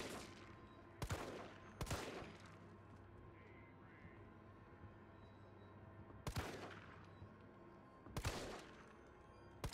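Sparse gunshots from the video game Resident Evil 3, a handful of sharp, loud cracks spaced apart over a quiet background, with no talking.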